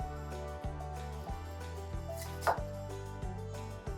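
A knife cuts through green and yellow capsicum on a board, with a few clear chopping thuds spaced about a second apart over a steady background hum, close and moderately loud.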